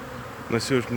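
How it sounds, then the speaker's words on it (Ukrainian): Honeybees from an apiary of over a hundred wintered colonies pour out on their spring cleansing flight, a dense buzzing hum that swells in a brief close pass. "міріади, міріади бджіл"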